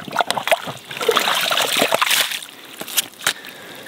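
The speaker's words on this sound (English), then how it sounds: "the clear water is just pouring into this hole" Clear water pours and splashes into a freshly dug hole outdoors, a steady close sloshing trickle with a few sharper splashes toward the end.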